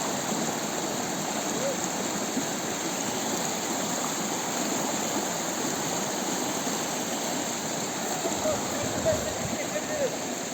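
A high creek rushes and burbles steadily nearby outdoors, a continuous loud broadband flow of water with no break.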